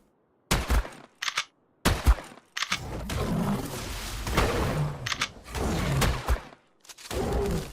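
Gunfire in ARK Survival Ascended comes in several sharp bursts separated by short silences, followed by a longer stretch of dense, rumbling shots and impacts, loud and close.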